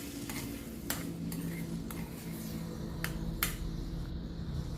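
A tempering of spices for festival sweet pongal fries in oil in a pan while being stirred, with a steady low crackle and a few sharp scraping clicks of the spoon against the pan.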